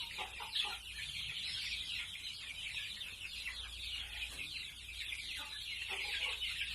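A flock of month-old domestic chicks clucks and peeps steadily and softly, many small overlapping calls in a rural coop with no talk.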